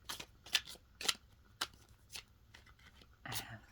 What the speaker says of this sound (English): just gonna shuffle these a little bit